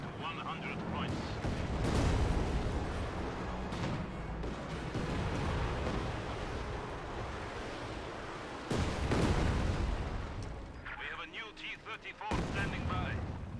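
Artillery barrage in Company of Heroes 2, a dense rumbling roll of booming impacts and gunfire that swells and continues for the whole stretch, with a caster talking over the battle.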